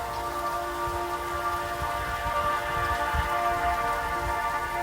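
Steady rain falls on surfaces in a dense, even patter of raindrops, soft and continuous, with a faint sustained tonal drone underneath and no talk.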